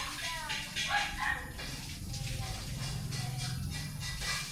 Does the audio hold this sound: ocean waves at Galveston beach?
no